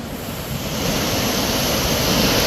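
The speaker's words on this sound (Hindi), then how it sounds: "अभी दरिया और गुजर रहा है और पानी और आ रहा है, देखो" Floodwater of the swollen Swat River surges past in a loud, continuous roar with a heavy low rumble and broad hiss. It sounds close, steady and swelling slightly, with no voices heard over it.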